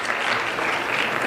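Brief burst of full audience applause at a Mental Health Week event honouring the planning committee, many hands clapping at once in a loud, continuous wash.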